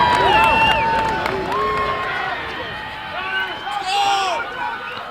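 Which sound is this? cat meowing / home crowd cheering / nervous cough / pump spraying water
home crowd cheering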